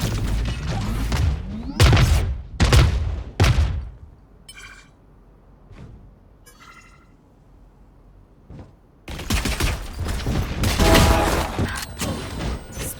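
In a competitive match of a tactical team shooter, missiles launch as a run of sharp, loud blasts, then a quieter stretch with small clicks, then a dense, sustained roar of explosions.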